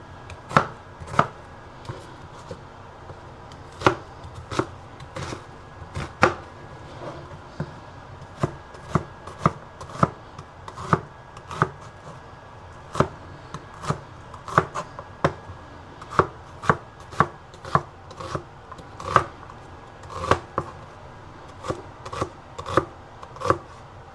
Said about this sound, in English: So we got the red onion cut.